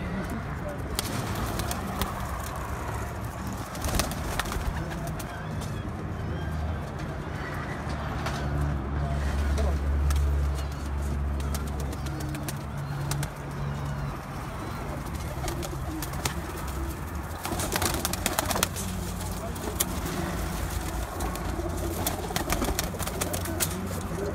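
Pigeons on a rooftop loft coo repeatedly in soft, rolling phrases, near and continuous, with people talking now and then and faint traffic in the background.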